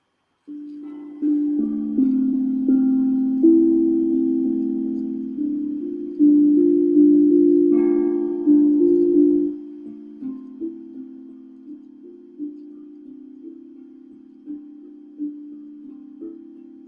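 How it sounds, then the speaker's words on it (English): Soft, mellow tongue drum notes ring out one after another, each struck tone decaying slowly, louder at first then quieter and sparser toward the end. "I played my tongue drum."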